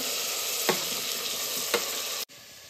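Garlic fries crisp in oil over a low flame as a tempering for a fish curry. It gives a continuous close sizzle with two brief stirring scrapes, then the sound cuts off abruptly near the end.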